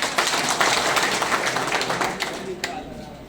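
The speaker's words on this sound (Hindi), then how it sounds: "एक बार अपने लिए ताली बजाइए।" Applause from a seminar audience in Supaul, Bihar, a dense wash of many hands clapping at once, fairly loud, then thinning out and fading near the end.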